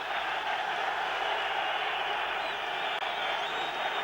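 Football stadium crowd during a Bulgaria Euro 1992 qualifier, a broad steady roar of fans swelling in response to play, heard far off and continuous.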